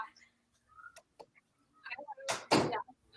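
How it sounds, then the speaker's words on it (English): A bedroom door in a home swings shut with a soft scrape and a dull thud near the end, close by and moderately loud, after a few faint knocks and rustles. "let me close my door."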